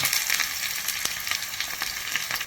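Half a spoon of mustard seeds and three or four chopped shallots in hot oil, a loud dense crackling sizzle with rapid popping throughout.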